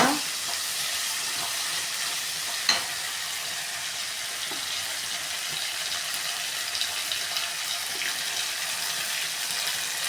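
Okra sautéing in a pan for a Tamil tamarind kulambu, a steady broadband frying sizzle running throughout with faint stirring scrapes and one sharp clink early on.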